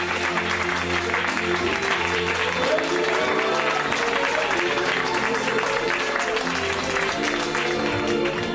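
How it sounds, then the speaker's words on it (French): An audience at a children's hospital Christmas party in Reims applauds Father and Mother Christmas, loud and continuous clapping mixed with crowd noise and a steady low musical hum throughout. "Je veux les applaudir très très très fort."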